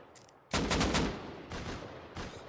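AK rifle fire in the console version of the survival game Rust, a loud burst of rapid shots followed by two more short volleys, with no talk.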